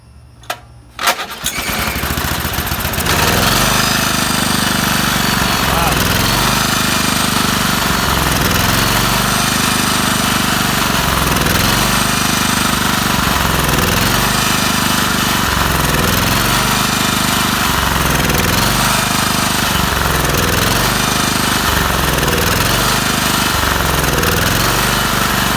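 A vintage Honda E2500 generator, choked and running on stale gasoline, cranks and catches after a brief silent gap, then settles into a loud, steady engine drone with a rhythmic, surging pulse, close to the microphone.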